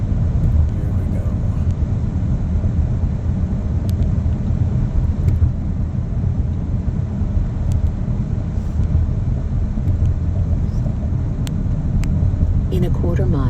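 A car drives along a bumpy road near an airport rental car return. A loud, steady cabin rumble runs throughout with occasional knocks, and voices are heard faintly now and then.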